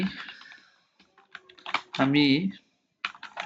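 Typing on a computer keyboard: short bursts of quick clicks with pauses between them, mixed with a voice talking.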